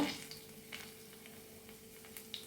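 Mustard seeds and curry leaves fry in hot oil left over from frying fish, giving a faint, steady sizzle with a few small pops and crackles.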